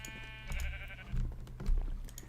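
Sheep in the Minecraft video game bleat several times in short close calls, with soft clicking underneath.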